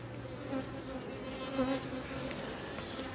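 A honeybee swarm from a divided colony buzzes close by, a steady dense drone with individual bees whining louder as they pass, heard alone without talk.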